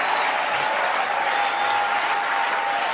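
A church congregation at a French revival service breaks into sustained, dense applause, a loud even wash of many hands clapping with no gaps.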